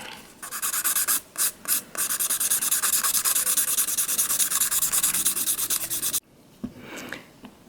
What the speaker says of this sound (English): the thicker the extension, the more filing that you need to do.